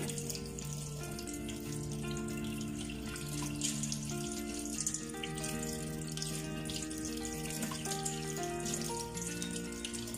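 Water runs from a kitchen tap during chile cleaning, a continuous splashing stream heard beneath tonal background music, steady from start to finish.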